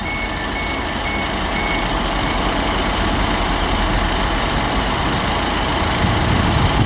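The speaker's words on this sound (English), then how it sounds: "It sounds like it's got a drill that's eventually going to pop out of it." The diesel engine of a class 158 train carriage rattles loudly and continuously at Stirling station, a harsh, steady grinding like a power drill running nonstop.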